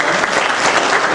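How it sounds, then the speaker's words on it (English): Congregation applauding in church on Easter Sunday, a short, loud, dense burst of clapping close by. "Let's give Elizabeth a round of applause"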